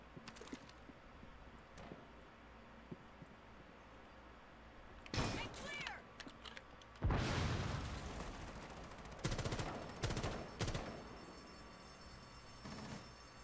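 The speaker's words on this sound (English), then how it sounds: "he's trying to shoot through the thing at me" Gunfire in Rainbow Six Siege, heard as scattered sharp shots and louder bursts against a quiet background, with an opponent shooting through a barrier.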